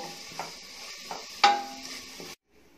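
Mint and coriander sauté in hot oil for kuska, a soft sizzle broken by a few light utensil clinks against the pan, one sharper knock, then sudden silence.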